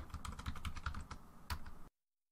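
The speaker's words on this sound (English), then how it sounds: "I'm going to type in sudo apt-get install opera." Quick bursts of keystrokes on a computer keyboard as a terminal command is typed, a dozen or so clicky taps in an uneven rhythm, close and clear, ending abruptly in silence.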